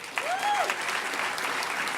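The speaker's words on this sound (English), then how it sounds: "So give them a round of applause" Crowd applause for the staff at a hacker conference closing ceremony, a steady roomful of clapping heard from a distance, with a brief rising whistle-like tone near the start.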